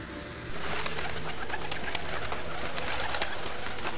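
Pigeons or doves coo continuously as a sound effect in a Buddhist animated film set in a forest, a dense, steady layer of calls starting after a short quieter opening.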